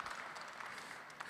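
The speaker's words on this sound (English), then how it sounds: "round of applause." Brief applause from a conference audience for a panel discussing Ukraine, a steady patter of clapping filling the short moment without a pause.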